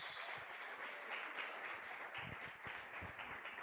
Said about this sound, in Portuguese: Você pode aplaudir o Senhor nesta manhã?